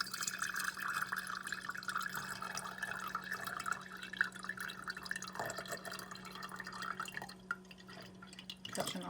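Liquid poured slowly into a jar through a combined strainer and mesh filter, catching dog hair and dirt; a steady close trickle and dripping runs throughout over a constant low hum, with no talk.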